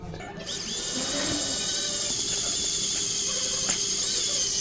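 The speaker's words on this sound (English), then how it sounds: "To do this, I am going to drive in a screw." Screw being driven into the old crankshaft seal of a Citroen Xsara Picasso 2.0 HDI, heard as a steady, loud whirring and grinding drive with a high mechanical whine that runs for several seconds.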